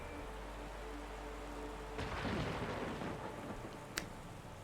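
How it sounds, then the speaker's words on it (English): Video game rain and thunder from The Gardens Between: steady rain hiss with a low rumble of thunder rolling in midway, followed by a sharp crack near the end. "Ooh, rain and thunder."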